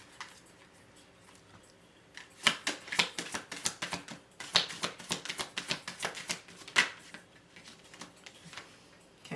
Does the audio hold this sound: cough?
no